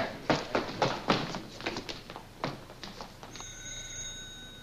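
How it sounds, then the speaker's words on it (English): An old-style telephone bell rings in repeated short bursts, loud and close, with a few taps and thumps between the rings and no talk. "That phone's been ringing ever since we got here."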